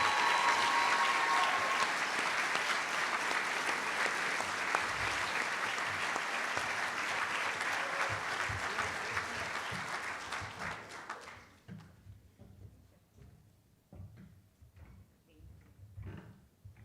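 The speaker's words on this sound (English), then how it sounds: "Can you all join me in one round of applause for all of our Chancellor's awardees?" An audience at a college convocation award ceremony applauds Chancellor's Award winners, a broad, sustained wash of clapping that fades out after about eleven seconds into scattered small sounds and quiet.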